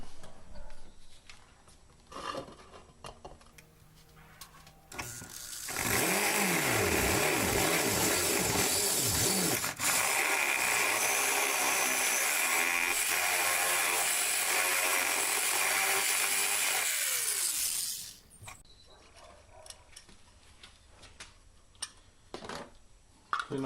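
A power drill running the final bit while making landscaping lights, a loud sustained whine for about twelve seconds with a ramp-up and wind-down, framed by quieter handling clicks.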